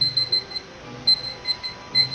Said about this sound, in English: let me go ahead and set my timer here.